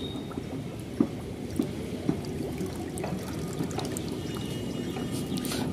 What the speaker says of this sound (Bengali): এই পুরো জলটাই দিয়ে দেবো